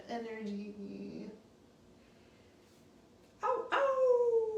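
A human voice imitates a wolf howl during a yoga practice, with a drawn-out falling howl, a quiet pause, then two more rising and sliding howl calls close by.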